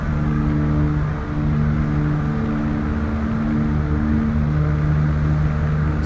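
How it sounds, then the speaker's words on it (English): The twin engines of an Aero Commander Shrike 500S sit at idle power in X-Plane, a steady droning hum with sustained tonal buzz, loud and even throughout. "see now I have the power on idle"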